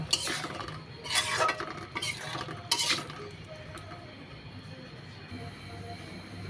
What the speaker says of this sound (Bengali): এখন আমি নেড়ে চেড়ে নামিয়ে নেব।